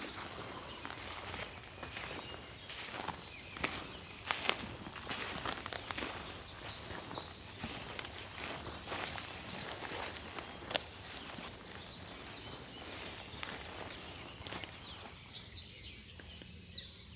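Steady footsteps crunch along a rural road in Maine at dawn during an eastern turkey hunt, an unbroken walking rhythm up close with faint bird calls in the background.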